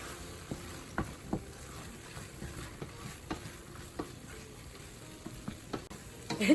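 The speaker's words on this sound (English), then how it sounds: "we're gonna go ahead and mix our sausage back in" Sausage being stirred back into a pan of vegetables and cream cheese, with soft scraping and irregular clicks of the spoon over a low sizzle, moderately close and without talk.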